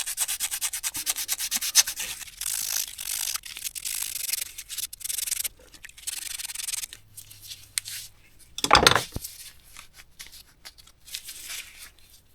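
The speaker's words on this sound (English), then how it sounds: "I'll just give that shaft a bit of a roughen up with sandpaper so it grips a bit better." Sandpaper rubs back and forth along the shaft of a starter motor from a vintage TD9 bulldozer, a close, dry scratchy rasp repeating in strokes for several seconds before briefer rubs and one sharp scrape near the end.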